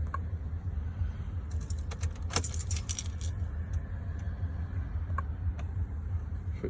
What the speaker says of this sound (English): Switch on the ignition